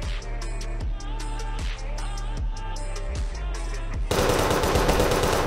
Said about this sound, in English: Firstly, it has this auto tracking turret.